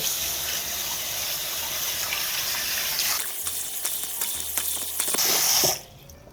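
Tap water runs steadily with splashing as foaming Aveeno cleansing gel is rinsed off the face, then cuts off abruptly near the end, with no talking.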